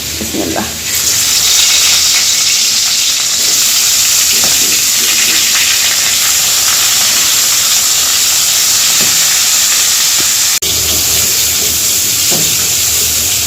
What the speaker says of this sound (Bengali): এদিকে মাছটা ভেজে নিই